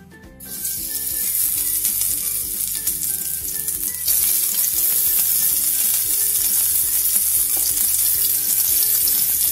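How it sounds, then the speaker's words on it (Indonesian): Beef with shallots stir-frying in a pan, a loud, continuous sizzle that surges a few seconds in, with faint scraping and stirring clatter underneath. "Langsung aja kita tumis."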